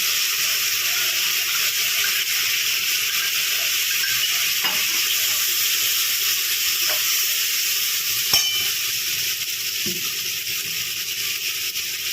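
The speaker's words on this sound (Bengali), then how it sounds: "কাজু আছে তো সেজন্য খুব ভালো করে নাড়াতে হবে, না নিচে লেগে যাবে।" Cashews and melon seeds frying in a thick spice masala in a pan, a steady even sizzle with occasional soft scrapes and knocks as they are stirred, no voices.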